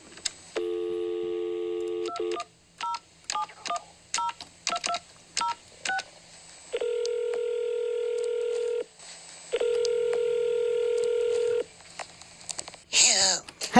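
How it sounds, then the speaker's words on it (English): A telephone call on a radio show: a rapid series of touch-tone dialing beeps, then two long ringback tones, close and clear over a quiet line. "I'm going to get Virginia May from Balmoral on the phone"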